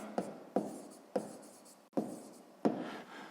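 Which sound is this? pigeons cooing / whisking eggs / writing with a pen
writing with a pen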